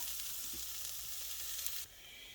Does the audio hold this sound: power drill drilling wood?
no